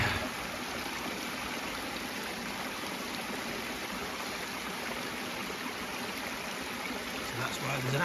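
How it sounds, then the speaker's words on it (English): A natural stream flows steadily past an aqueduct outdoors, a continuous broadband wash of running water that stays even and fairly loud from start to finish, with no clear talk over it. "we built that because there's a natural stream flowing through."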